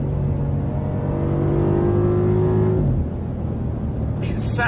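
A BMW M5 safety car accelerates hard on a race track, its engine rising steadily in pitch through the gears at close range before the tone drops near the end, with a brief higher noise at the finish.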